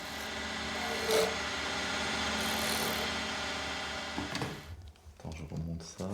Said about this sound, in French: Il faut maintenant tourner et le raboter.